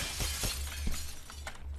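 In the video game Happy Wheels, a pane of glass shatters with a bright crash and scattering tinkle, followed by a few smaller breaking hits, close and without speech.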